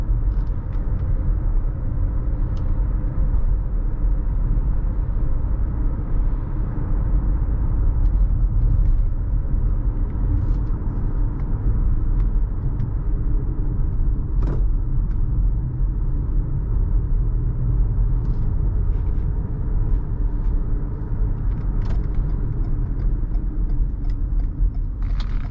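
A 2018 Toyota Highlander XLE SUV cruises in traffic, heard from inside as a steady low engine and road rumble with soft tyre hiss, continuous and even throughout with no talking.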